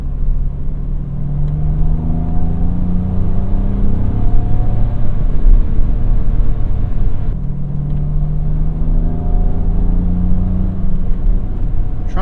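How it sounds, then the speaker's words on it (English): A BMW M Coupe's S52 inline-six revs while driving, heard up close from inside the car as a steady loud drone rising in pitch through two pulls separated by a brief gear change, with no talking. "Trying to give the engine a little bit of sauce so we can evaluate it"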